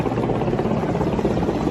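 Army helicopter flying over Victoria Hospital in Bengaluru makes a steady, fairly loud rotor drone with a faint pulsing throb, continuous and without speech.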